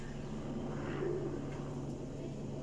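A pigeon from a paired breeding couple coos softly nearby, one low, rounded coo rising over a quiet steady background.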